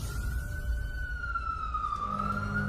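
A wailing ambulance siren sweeps in a long rising and falling tone, loud and fairly close, over low traffic rumble.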